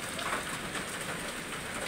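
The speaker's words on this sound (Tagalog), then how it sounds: "Ay, naku, ang ulan na to kahapon pa to." Steady Christmas rain in the Philippines, an even hiss of drops falling on surfaces, continuous and moderately close with no voices.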